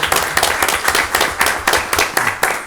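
A small group claps steadily at a city council meeting, close and fairly loud, with even rhythmic claps lasting a few seconds and no talk over them.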